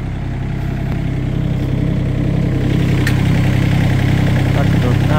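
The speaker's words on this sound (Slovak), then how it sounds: "Taká je CT38 Pro. Motor to má Yanmar," A Macao CT38 Pro compact tractor with a 27 kW Yanmar engine runs at a steady idle outdoors, a loud, continuous low diesel chug that stays constant throughout, with talk over it.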